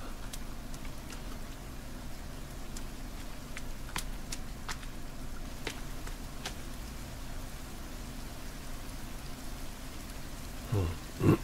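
Steady rain falls in the survival video game The Forest, a constant soft hiss with scattered sharper drop ticks, largely alone until a short vocal sound near the end.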